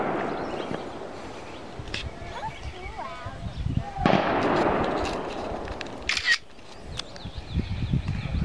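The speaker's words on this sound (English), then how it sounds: "Here's the gun salute." A rifle volley fired as a gun salute at an outdoor Memorial Day ceremony in Swanzey, New Hampshire, gives a few sharp cracks over crowd murmur and voices, with one broad loud burst in the middle.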